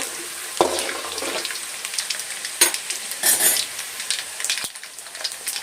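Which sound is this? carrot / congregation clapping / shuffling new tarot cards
carrot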